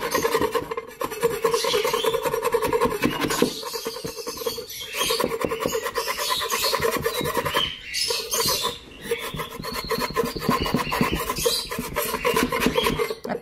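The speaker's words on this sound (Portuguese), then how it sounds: "A gente vai raspar." Steady, close scraping and rasping on dirty wooden nest boxes, continuous strokes with brief pauses and no talking.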